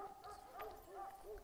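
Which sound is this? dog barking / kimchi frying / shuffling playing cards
dog barking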